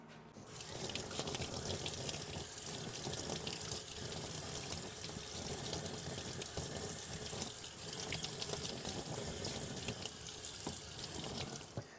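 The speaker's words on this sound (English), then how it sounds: "I'm just gonna go rinse off these baffles real quick." Suppressor baffles from a Little Bird and a Pac Lite TSS being rinsed under a tap, with steady, loud running water splashing without a break and no talking.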